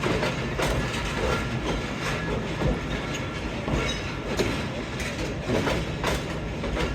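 A passenger train rake pulls into Lahore railway station in thick fog, wheels clattering over rail joints in steady clickety-clack with occasional squeals and a constant rolling rumble close by, and faint voices underneath.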